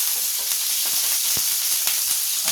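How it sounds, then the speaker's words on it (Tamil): Crushed garlic and curry leaves sizzle steadily in hot oil for a cluster beans masala, a continuous close frying hiss with small crackles throughout. "அந்த பூண்டு கருவேப்பிலையும் சேர்த்துக்கலாம் பூண்டு நல்லா சவக்கட்டும்"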